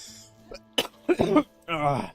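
A few short, close coughs and throat-clearing bursts in quick succession, with a voice briefly heard.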